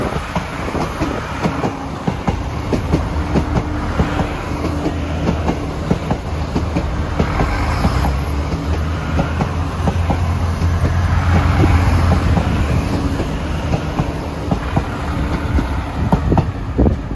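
An out-of-service train of Class 29000 diesel multiple units passes near Dublin, a loud sustained rumble with rhythmic clickety-clack of wheels over rail joints that swells toward the end.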